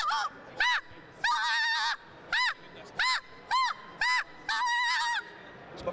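A handheld goose call blown to imitate goose honks: about nine loud, clear, close honks in an uneven rhythm, with no talking.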